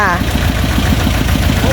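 Farm tractor engine running to thresh rice, a steady mid-pitched idling rumble with rapid pulsing throb, close and loud, with people's voices heard over it.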